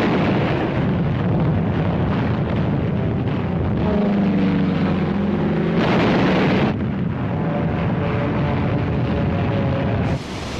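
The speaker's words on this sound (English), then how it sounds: "Wave after wave of American aircraft paved the way with a massive aerial bombardment" Massive aerial bombardment of Iwo Jima by waves of American aircraft in 1945 rumbles as a dense, continuous roar of distant explosions and heavy booms, loud and unbroken throughout.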